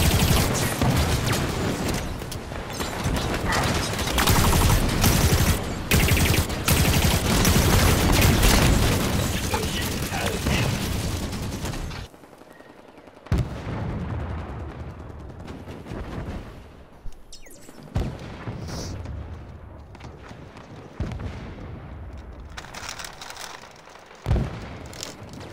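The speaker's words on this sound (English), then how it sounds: "Ready with the plasma cannon. Out of cover on me." A sci-fi firefight in a video game, where a plasma cannon fires along with gunfire in dense, loud bursts and booms for the first half, then sparser sharp blasts and pops separated by quieter gaps.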